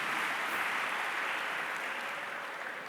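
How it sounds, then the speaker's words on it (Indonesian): A congregation at a church service applauds in a dense, even wall of clapping, slightly distant, gradually easing toward the end. "Berikan tepuk tangan yang meriah buat Tuhan."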